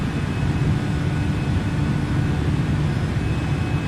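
Airbus A320 taking off in Microsoft Flight Simulator, with a steady loud roar of jet engines holding constant throughout.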